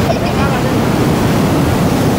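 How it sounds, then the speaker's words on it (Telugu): Fast-moving sea surf rushing toward the shore at a coastal spot near Sri Kurmam temple in Srikakulam, a loud, continuous broadband wash of breaking water with wind buffeting the microphone. "వావ్ వాటర్ మాత్రం చాలా చాలా ఫాస్ట్గా వస్తుంది"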